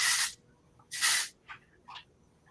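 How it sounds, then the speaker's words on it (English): Texture spray misted onto a woman's hair while styling, heard as two strong close hissing bursts followed by two shorter, softer spritzes, with quiet pauses between them. "we're going to come in with some texture spray. And this is a texture spray from us."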